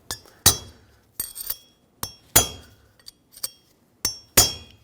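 A hammer strikes a punch to seat the outer bearing race of a rear wheel bearing on a 2007-2014 Chevrolet Silverado 2500 HD, giving sharp, ringing metallic blows in uneven clusters, some single and some doubled.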